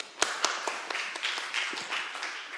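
Audience clapping for a guest at a photography-week talk, a burst of sharp claps swelling into steady mid-level applause from a room of people, no voices over it.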